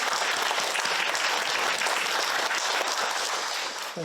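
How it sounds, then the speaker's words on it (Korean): Audience applause at a Korean Catholic lecture event honoring a professor, a steady dense clapping that fills the room and tapers slightly at the end. "정 교수님께 박수 쳐드리겠습니다."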